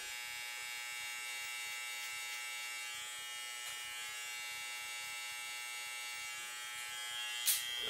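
Hair clippers fitted with a 1 guard cutting hair during a drop fade, a steady, faint electric buzz running unbroken throughout.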